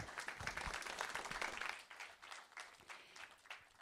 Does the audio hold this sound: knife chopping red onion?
no